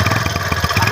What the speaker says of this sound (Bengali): দেখো বাইকের শব্দ দেখছো কি